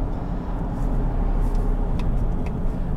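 Steady engine and road drone from a 2021 GMC Acadia AT4 as the gas pedal is stamped, a constant low rumble without a clear rev peak, heard from inside the cabin with no talking.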